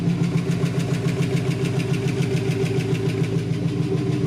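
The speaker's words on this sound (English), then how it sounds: "That's the noise I have when I'm just starting my car." A 2005 Chevy Tahoe engine just after startup, idling steadily up close with a fast, even ticking running over its low rumble.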